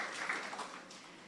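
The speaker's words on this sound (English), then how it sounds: "Another round of applause, please" Faint, distant applause from an audience at a formal CARIFORUM-EU trade ceremony follows a performance as a soft, even wash of many hands that gradually fades.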